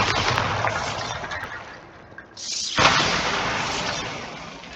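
Bombarda spell explosion from Hogwarts Legacy on Xbox Series S: a loud burst with a sharp onset near the middle, then a long roar that slowly fades, set over steady game ambience.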